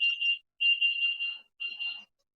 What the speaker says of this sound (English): okay, that's the timer.